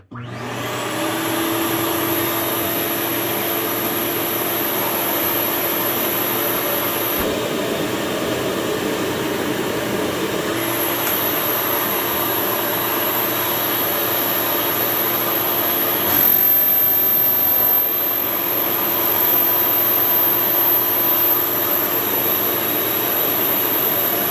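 A RIDGID WD4070 4-gallon 5 HP wet/dry vacuum runs continuously with its hose fitted, a loud steady whine and rushing airflow holding from start to finish, with a brief dip in pitch partway through.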